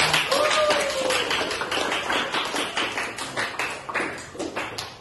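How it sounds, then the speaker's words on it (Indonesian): A classroom of students gives a short round of applause for a classmate, with close, fairly loud claps that grow sparser and fade toward the end. "Jadi tepuk tangan untuk kamu"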